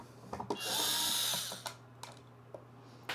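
Power drill briefly spinning while removing screws from a Sunlu AMS heater on a Bambu 3D printer, a short whirring burst followed by scattered clicks and handling knocks, fairly quiet and close.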